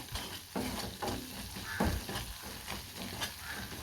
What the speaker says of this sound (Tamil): அந்த எண்ணெயிலே டேரெக்டாக வதக்கிக்கலாம்.